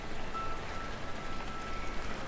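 Steady rain in the Rainswept video game, a constant soft hiss of drops falling on surfaces that stays even and unbroken throughout, quiet and without any talk.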